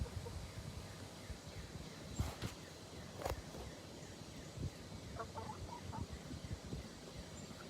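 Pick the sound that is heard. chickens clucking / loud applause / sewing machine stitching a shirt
chickens clucking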